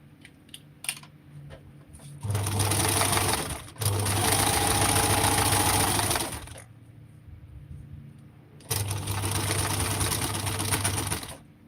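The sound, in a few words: sewing machine sewing down a folded seam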